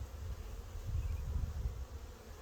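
Agitated honey bees from a package colony buzz during a hive frame inspection, a close, low, continuous drone that swells and wavers in loudness, with no talking.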